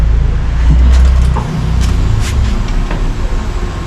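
A Kawasaki Ninja 400 motorcycle engine cranks and catches, a steady low rumble running throughout with a brief dip partway and faint higher clicks above it, no talking.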